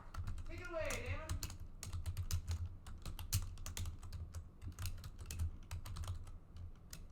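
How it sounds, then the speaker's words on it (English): Rapid computer keyboard typing clicks away steadily throughout during a Villagers and Heroes livestream, with a brief voice at the start. "I hear you typing."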